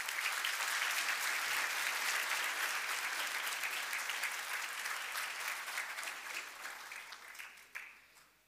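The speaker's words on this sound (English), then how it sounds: "Can we get another round of applause for the class of 2022?" At a Class of 2022 graduation ceremony at GEMS American Academy Qatar, an audience gives the graduating class a dense, even round of applause that starts full and gradually tapers off to a few last claps.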